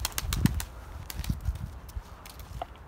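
A bird's wings flap in several quick, close bursts, fluttering and beating irregularly for a couple of seconds.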